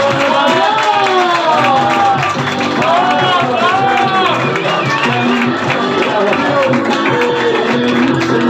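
Dense, continuous crowd noise with clapping and cheering from an audience at an adult birthday show, loud and unbroken, with voices mixed in throughout.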